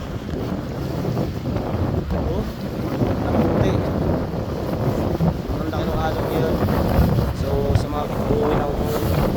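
Big sea waves and strong wind during a night boat ride off Dinahican, with a constant roar of wind buffeting the microphone over the rumble of the boat and water slapping the hull.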